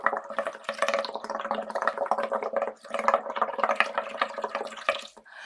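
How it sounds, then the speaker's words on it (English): Air is blown through a tube into water to make large bubbles, producing a continuous close burbling and gurgling that runs for several seconds with a brief pause midway and no talking. "I'm going to now blow some air into the water to create much larger bubbles"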